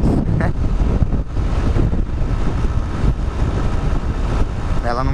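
Steady, loud wind roar buffets the microphone while riding a 2020 Honda Start 160 motorcycle at around 100 km/h, continuous and broadband throughout with no letup.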